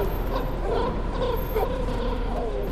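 In a horror video game, a dog barks and yips in a looping pattern, the barks repeating at a moderate distance over steady low background noise.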